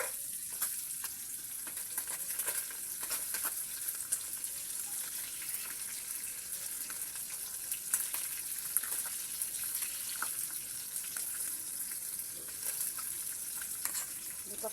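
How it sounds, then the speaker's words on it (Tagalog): Galunggong fish fry in a pan with a continuous, soft hiss and crackle, steady and moderately faint, with occasional small pops and clinks over the sizzle. "Tapos may prito naman galunggong."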